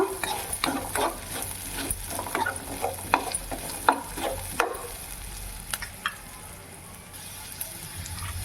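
Diced tomato and curry leaves fry in a pan, a soft steady sizzle broken by repeated sharp scrapes and clinks of a spoon stirring, with the stirring stopping near the end while the sizzle carries on.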